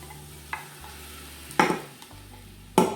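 Onions and home-canned tomatoes cooking down in a Power Pressure Cooker XL pot, heard as a low steady simmer broken by three sharp stirring scrapes, with no talking.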